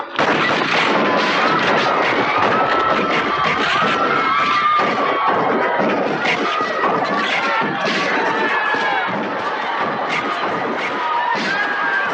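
A ceremonial rifle volley fired on command at a 2024 Independence Day event, heard as loud, dense crackling gunfire that runs almost continuously over a noisy outdoor crowd.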